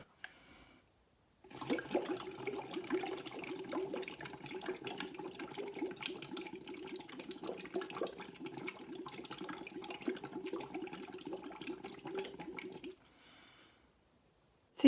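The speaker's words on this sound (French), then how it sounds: "utiliser notre paille et un verre d'eau et de souffler des bulles dans ce verre d'eau" Steady bubbling gurgle from air blown through a straw into a glass of water, a continuous close burbling that starts abruptly, runs for about eleven seconds, then stops.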